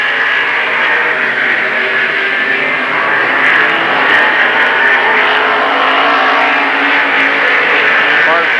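Modified race cars roaring around Lernerville Speedway in 1994, a continuous loud engine drone from the pack filling the track, with an announcer's commentary running over it throughout.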